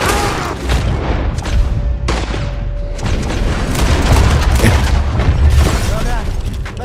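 Gunfire in a cowboy-themed video game, repeated loud booming shots and bursts layered with game effects, while players talk over the action.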